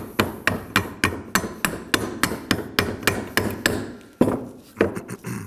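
Old front brake pads on a Kia Sorento are tapped loose with a hammer: a run of about fifteen sharp, evenly spaced metallic knocks, close and loud, pausing once before a few final blows.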